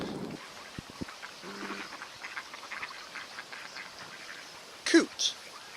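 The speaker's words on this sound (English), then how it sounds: "Coot." Outdoors near water, a short bird call rings out twice close together near the end, with faint background sounds and soft talk earlier.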